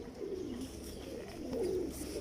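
Mistri Masse pigeons give soft, low coos, two drawn-out calls rising and falling close by with no talk.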